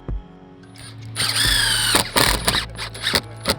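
A power tool drives a couple of screws with short bursts of loud whirring and squealing, spaced by brief pauses and close to the listener.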